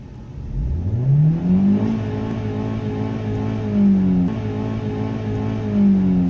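A car engine running on LPG revs up sharply and holds against the rev limiter near 6500 RPM, its pitch bouncing in repeated cut-and-recover surges, loud and close with no talk.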